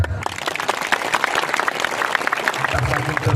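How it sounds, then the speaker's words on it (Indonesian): A crowd at a large outdoor religious lecture led by Ustaz Abdul Somad claps for about three seconds, dense and steady, with a few voices mixed in beneath it. "Mana tepuk tangannya?"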